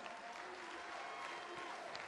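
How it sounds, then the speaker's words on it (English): Steady applause from an arena crowd after a professional boxing bout, a dense, even wash of clapping that holds for the whole moment with faint voices underneath. "Ladies and gentlemen, a round of applause for both boxers"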